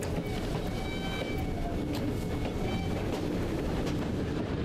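A train rolls past in Assassin's Creed Syndicate, a continuous loud rumbling clatter with faint squealing tones held steady throughout.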